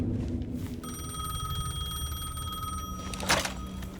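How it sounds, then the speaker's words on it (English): A payphone in the video game Alan Wake 2 rings with a single sustained electronic bell tone lasting about two seconds, clear and fairly close over a low ambient rumble, followed by a short rustling clatter. "The payphone was ringing."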